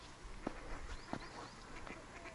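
Scattered duck quacks over a steady outdoor background hiss, a few distinct calls spaced apart at moderate distance, from ducks on turquoise-green water in Feofaniya park.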